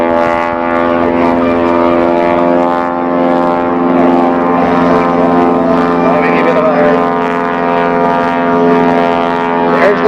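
Propeller aircraft engine drones steadily and loudly throughout during an aerobatic display at the 2005 Saskatoon air show, a rich, constant harmonic hum with no clear gaps.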